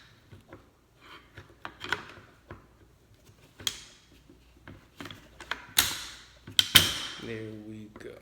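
Metallic taps, clicks and sliding knocks as pins are pushed through a Smith & Wesson MP15 Sport 2 rifle during reassembly, scattered close-up handling noises with a voice speaking at the end.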